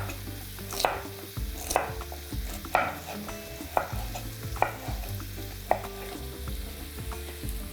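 A celery stalk with its leaves is sliced diagonally with a knife on a board while an omelette is being prepared. About seven crisp chops land at a slow, steady pace, roughly one per second, over a low background hum.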